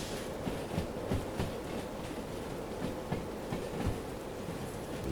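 A train rolls along wet track in the rail simulator Derail Valley, rhythmic wheel clacks over rail joints repeating under a steady rumble, heard alone.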